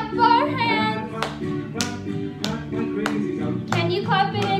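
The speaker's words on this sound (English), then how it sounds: "Clap for our hands." Several sharp claps ring out one at a time under a singing voice, with music playing alongside.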